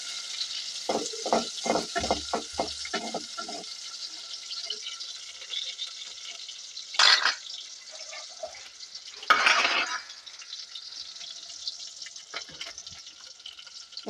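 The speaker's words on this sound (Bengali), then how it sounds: "পেঁয়াজটা একটু নেড়ে নেবো ভালোভাবে।" Chopped onion is stirred around a hot pan for a chicken and potato curry, giving a steady background sizzle, a quick run of scraping strokes early on, and two louder bursts of frying later, with no talking.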